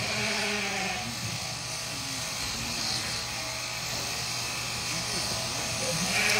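Electric shears buzz steadily as a sheep is shorn live at the Fiber Festival of New England, a constant close drone with faint bleats under someone talking throughout.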